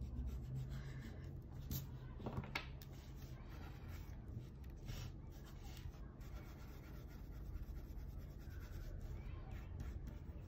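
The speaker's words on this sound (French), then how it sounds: "On gomme un peu les traits de construction" An eraser rubs out pencil construction lines on paper while sketching Gon from Hunter x Hunter as an emoji. Soft, steady scrubbing strokes run throughout, close and fairly quiet, over a low background hum.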